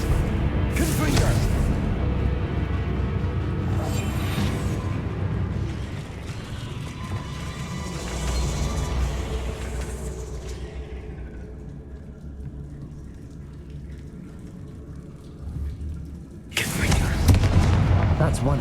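A Confringo explosion spell in Hogwarts Legacy bursts with deep booms and rumbling, followed by a sustained low roar that fades, then another sharp blast near the end, with a voice speaking over it.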